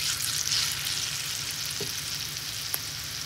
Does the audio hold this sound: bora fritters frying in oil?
yes